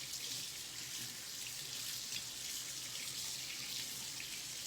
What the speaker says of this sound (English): My hands are very sticky. I'm going to rinse them off.